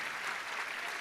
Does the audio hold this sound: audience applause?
yes